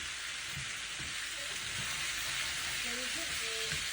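Chickpeas, carrot and mango for karam sundal are stirred in a hot pan, giving a steady close sizzle with soft scraping strokes and faint voices in the background.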